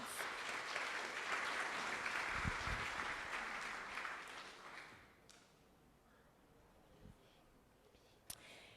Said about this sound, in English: Please give a round of applause for Alec Ross